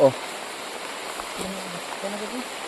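Heavy rain pouring down in a steady, even hiss that fills the whole stretch, with a brief knock at the start and faint murmured voices underneath.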